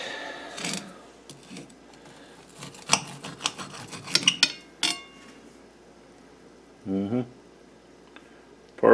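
Short scraping and clinking strokes of a knife cutting an air-fried pork chop against a plate, close up, in uneven bursts, with a few quiet words spoken between them.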